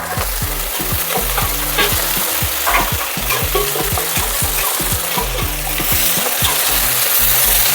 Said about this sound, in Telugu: ఈ ఎండు చేపలు కూడా మంచిగా ఆయిల్లో ఫ్రై చేసుకోవాలి